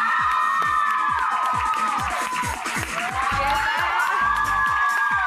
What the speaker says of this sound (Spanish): les pido que le den un aplauso a Eugenio Derbez.